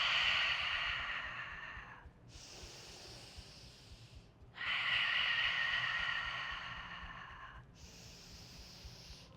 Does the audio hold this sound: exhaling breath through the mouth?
yes